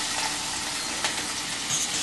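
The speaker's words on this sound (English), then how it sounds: "And my water is boiling." Water boils in a pot on the stove for cooking noodles, a constant bubbling, hissing rush at moderate loudness with no voices.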